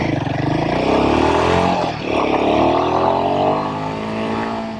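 A Royal Enfield Himalayan 452 motorcycle on its stock exhaust pipe runs steadily close by, its engine note rising and falling in layered harmonics with a brief dip mid-ride, no talking.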